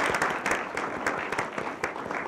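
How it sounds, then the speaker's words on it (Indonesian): Audience applause for a jury member on an Indonesian comedy show, a steady burst of dense clapping from a crowd filling the whole stretch at even loudness, with a few voices mixed in. "Tepuk tangan untuk Pak Naik L."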